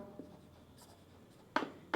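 Quiet scratchy strokes of writing on a board come in short bursts, with a faint scrape early on and two louder marks near the end against low room hiss.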